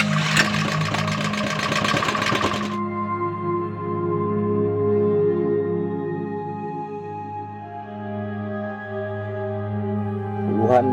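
A generator running in an isolated forest village in Pangkep, giving a steady droning engine hum with a louder rattling burst at the start and a faint knock near the end.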